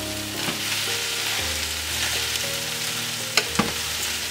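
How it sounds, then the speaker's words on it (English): Cabbage stir fry sautéing in a pan with other ingredients, a steady close sizzle with occasional stirring scrapes and two sharp utensil knocks near the end. "Saute this with all the ingredients that we already have."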